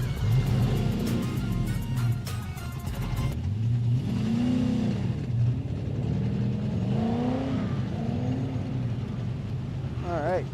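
Race cars at a grassroots competition rev up and down in repeated rising and falling engine sweeps, with a commentator talking over them throughout.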